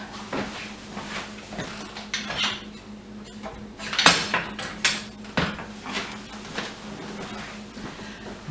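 Knife and cutlery handled in a home kitchen while making strawberry bread: scattered metallic clinks and taps over a steady background hum, with a sharper clatter near the middle and a few more scrapes after.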